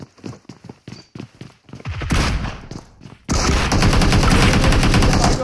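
Gunfire in the PUBG battle game on the Erangel map: scattered single shots at first, building into dense, loud automatic bursts that continue steadily to the end, with no talk over it.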